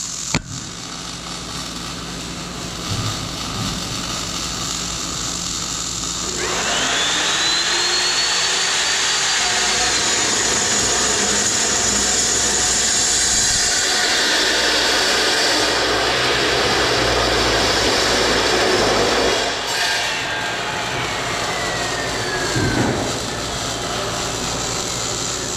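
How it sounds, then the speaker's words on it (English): A saw cuts a piece of steel tubing for a silage truck body build. A rising whine spins up into a loud, sustained grinding roar, then winds down near the end, with no speech. "I'm cutting the right one now, and that's what's in the saw here."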